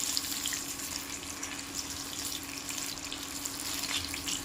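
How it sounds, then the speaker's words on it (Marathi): Slit green chilies frying in hot oil, a steady dense crackling sizzle with a faint underlying hum, close and continuous. "छान हिरवी मिरची छान तळून घ्यायची"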